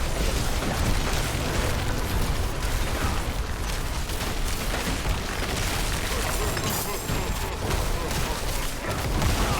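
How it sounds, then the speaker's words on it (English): Dense, continuous rumbling blasts and booming explosions from Diablo 4 gameplay fill the whole stretch, loud and chaotic, with a steady roar underneath and no pauses. "I almost forgot about this fucking explosion again."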